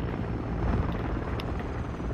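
Helicopter rotor and engine drone in the Battlefield 2042 video game, a steady, fairly loud low rumble running throughout with no talk over it.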